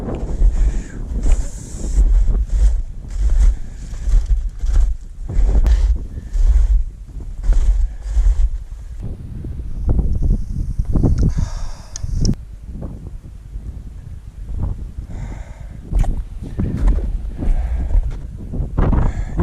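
Strong gusty mountain wind roars and buffets the microphone, rumbling in waves that swell and ease without letting up.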